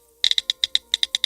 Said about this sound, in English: I feel like I could get used to this small keyboard, like especially with the sound